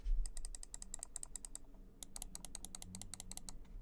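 Rapid series of sharp, close mouse button clicks from a Razer Orochi V2 small mouse with KLGM 4.0 switches, in two quick bursts separated by a brief pause, crisp and dry with no talk.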